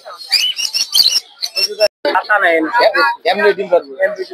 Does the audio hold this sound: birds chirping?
yes